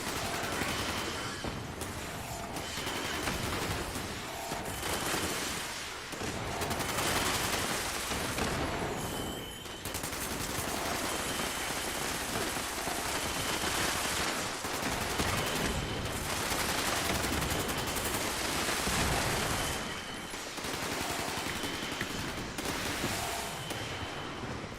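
Weapon fire in the Dune video game: repeated bursts of gunshots in rapid volleys over a steady, busy combat soundscape, fairly loud and continuous throughout.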